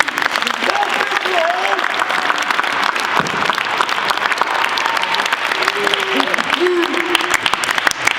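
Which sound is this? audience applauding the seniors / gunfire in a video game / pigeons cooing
audience applauding the seniors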